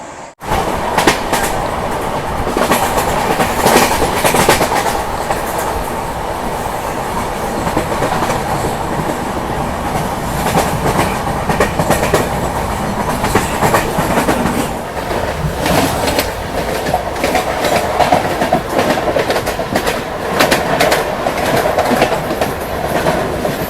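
The Gitanjali Express sleeper train rumbles on the rails with a steady, loud clickety-clack of wheels over joints and an ongoing rattle of the carriage for the whole stretch, with no voices.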